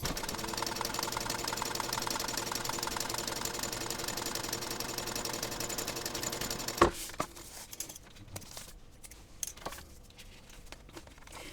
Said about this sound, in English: now I want to sew this using a 1/4 inch seam allowance